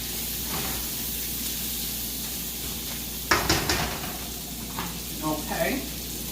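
Bacon sizzles and sautés in a pan ahead of green beans, a steady close frying crackle broken by a louder stirring scrape midway, with a voice talking briefly near the end.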